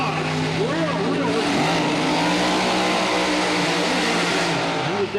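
A Pro Mod Corvette drag car launching off the starting line at the 2003 IHRA Spring Nationals in Rockingham, North Carolina, engine roaring loud and continuous with pitch sweeps, under a commentator's voice.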